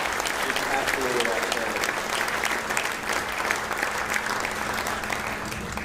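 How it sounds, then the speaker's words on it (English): A guitar festival concert crowd honors the top three finishers of a fingerstyle competition with loud, sustained applause, a thick wash of many hands clapping close and steady throughout. "How about a round of applause for all three of our top finishers, Mark Cruz, Dave Gray, Mrs. Rossmore."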